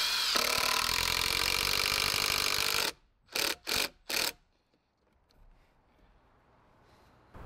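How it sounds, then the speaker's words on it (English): A power drill whirs loudly for about three seconds, drilling screw holes into the side of a leg, then fires three short quick bursts before falling quiet. "I'm gonna drill holes in the side of the leg here for screws to go in"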